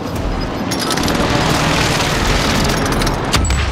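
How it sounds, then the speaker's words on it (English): Rolling, continuous barrage of airstrike explosions in Call of Duty: Modern Warfare, dense booming blasts filling the whole stretch loudly with no pause, a sharper crack near the end. "Allied precision airstrike incoming"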